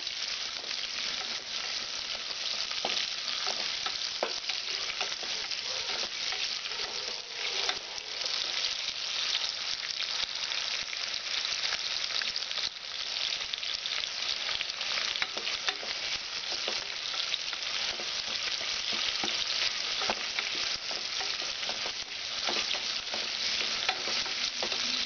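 Onions frying in a pan for chicken pulao, a steady close sizzle with occasional stirring scrapes running throughout, no voices.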